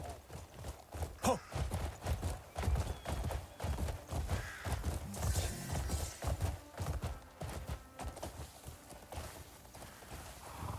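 Horse hooves pound at a full gallop in the video game Crimson Desert, a steady rapid clip-clop rhythm running close and loud throughout, with ambient game sounds layered underneath.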